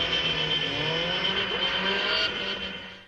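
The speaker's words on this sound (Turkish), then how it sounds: "Ancak trafiği durma noktasına getirip drift yaparak ilerlediler." A white car drifts through traffic in a wedding convoy in Konya, its tires squealing loudly and steadily over a revving engine for about three seconds before fading at the end.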